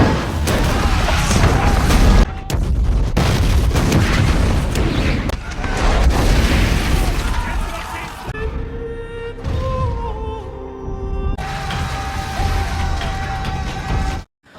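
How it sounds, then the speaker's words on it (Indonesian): Cannon fire from Saladin's Muslim army bombarding Jerusalem's fortress walls during the Crusades: loud, dense booming and crashing rumble for several seconds, then easing into quieter sustained tones before a sudden cutoff. "meriam api yang ditembakkan pasukan muslim Saladin untuk merobohkan"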